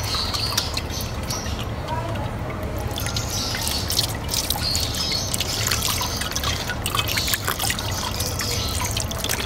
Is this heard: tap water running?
yes